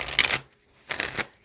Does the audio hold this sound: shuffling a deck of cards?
yes